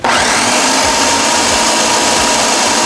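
High-speed blender liquefying birria consommé ingredients with apple cider vinegar, a loud steady whirring roar running continuously with no pauses and no talk.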